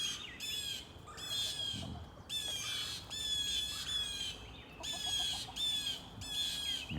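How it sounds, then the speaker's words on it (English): Hens in a coop on a winter day, squawking and chattering in repeated loud bursts with short pauses between them, heard close and without any talk. "These birds are really chattery."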